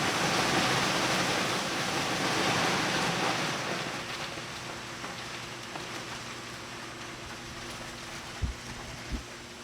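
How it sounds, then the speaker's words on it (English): Ice machine harvesting a batch of ice, heard as a loud rushing, hissing wash that tapers off into a low hum, with a couple of faint knocks near the end. "Now, to us, that's the sound of ice being made."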